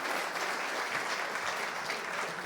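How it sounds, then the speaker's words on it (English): At an in-person sales awards event, an audience applauds the speakers with dense, sustained clapping that holds evenly loud throughout, with no talking. "So just a round of applause for the speakers again."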